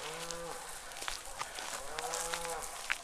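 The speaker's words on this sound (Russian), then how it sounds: "Кто там мычит?" A cow moos twice at evening feeding time on a farm, two drawn-out lowing calls from some distance, with faint yard sounds in between.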